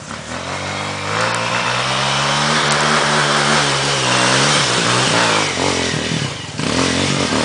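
A trail motorcycle engine revs loudly and steadily for several seconds during a wheelie attempt, the pitch climbing and holding under throttle, with a brief dip near the end before it revs up again.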